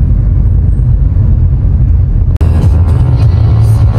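Steady road traffic on Sumulong Highway near Marikina, Philippines, with slow-moving cars: a continuous low engine rumble and broad road noise, broken by one sharp bang partway through before the dense traffic noise resumes.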